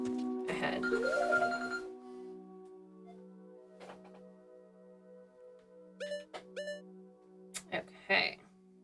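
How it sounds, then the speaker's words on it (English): A telephone rings off to the side during Ocarina of Time gameplay, with several short, sharp ring bursts near the end over steady game music and sound effects. "I thought we were gonna have to take a phone call there."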